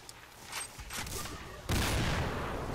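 Sniper rifle gunfire in a zombie video game, a few sharp reports with a loud burst of shots near the end, heard close and dry without any talk.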